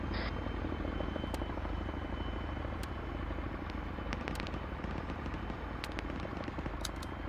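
In a military video game, a helicopter gives off a faint, steady rotor drone that fills the whole stretch, with scattered sharp clicks and cracks over it. No one talks.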